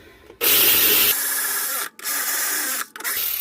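A power tool whirs loudly and continuously, cutting out briefly twice before starting up again, with no voices over it.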